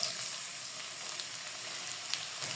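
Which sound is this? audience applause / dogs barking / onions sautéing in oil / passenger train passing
onions sautéing in oil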